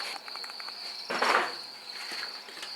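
Crickets on a cricket farm chirp steadily in harvesting crates, a constant high trill with some brief rustling and a louder scrape partway through.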